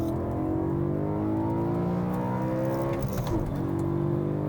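A 2008 BMW M3 accelerating hard on a track straight, its engine note climbing steadily and loudly throughout, heard close from inside the car with no talking.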